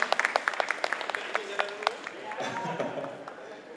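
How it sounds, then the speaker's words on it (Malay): An audience gives brisk applause for panel guests taking the stage, sharp claps fading out after about two seconds, then a voice speaks over the room. "Kita berikan tepukan kepada tetamu kita"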